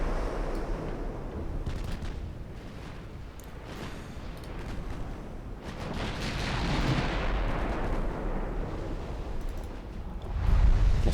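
Naval artillery from triple 7-inch Mark III turrets on an armoured cruiser in a naval combat game, a continuous rumbling barrage of heavy booms layered over one another, loud and sustained, with a sharper blast near the end.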